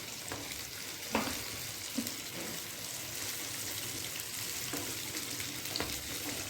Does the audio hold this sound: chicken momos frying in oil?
yes